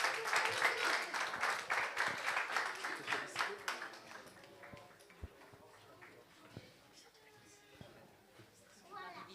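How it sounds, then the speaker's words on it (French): A church congregation at a pastor's consecration claps loudly and briskly at first, then thins into scattered claps that fade toward the end, with some voices mixed in. "On applaudit votre couple pastoral, pasteur Claude et son épouse."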